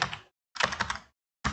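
Close, crisp bursts of computer keyboard clatter, with two quick runs of keystrokes separated by silence and then a final firm press.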